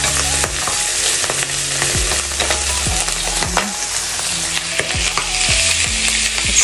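Beef for beef broccoli fries loudly in a pan, a bright close sizzle broken by repeated stirring scrapes and utensil knocks throughout, with no voices.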